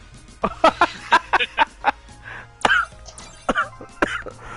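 Several harsh coughs and throat-clearing bursts come in quick irregular succession, fairly close, with a little voice sound mixed between them.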